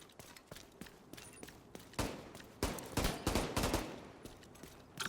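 Gunfire in the video game The Division 2 comes as quiet, scattered bursts of shots and rapid volleys that grow denser toward the end.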